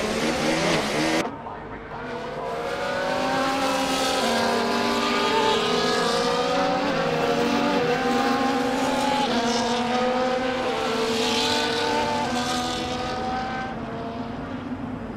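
Formula 1 race cars in the F1 24 game forming up on the starting grid in Australia, a loud, sustained blend of engine drone with shifting harmonic pitches running continuously after a brief opening cut.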